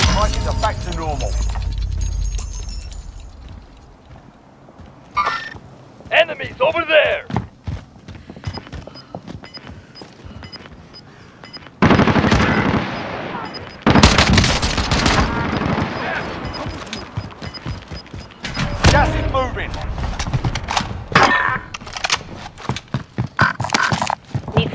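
Bursts of automatic gunfire and scattered shots in Warzone on Rebirth Island, heavy and close in several loud clusters separated by quieter stretches.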